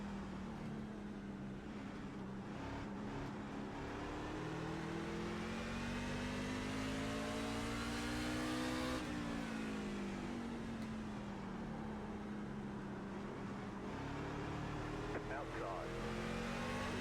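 A simulated race car engine in the iRacing game drones loudly and continuously throughout, its pitch rising and falling through gear changes in a steady, close, unbroken roar.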